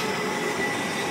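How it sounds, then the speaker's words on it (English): A train runs through a station platform without stopping, making a steady, loud, continuous rumble and rush with no talking. "The approaching train is not scheduled to stop"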